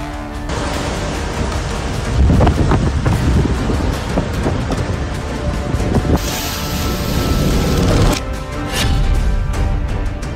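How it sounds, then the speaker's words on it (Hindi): Heavy stormy rain pours down at Masjid al-Nabawi in Medina, a dense roaring wash with gusty wind buffeting that swells and eases, loud and continuous with no voices. "मस्जिद अल नबावी में भारी बारिश का पानी तेजी से गिरते हुए देखा गया।"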